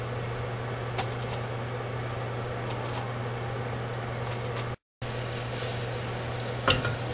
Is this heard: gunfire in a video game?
no